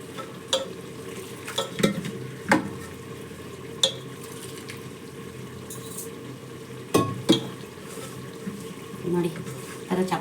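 Wheat flour is mixed by hand with salt and water for roti dough, giving soft squelchy stirring over a steady low rustle, broken by a few sharp knocks against the bowl.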